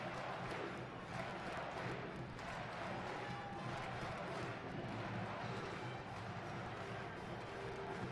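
Dense, steady roar of a large crowd at an A10 tournament basketball game between Duquesne and Rhode Island, heard from a distance with continuous cheering and chanting and no clear break.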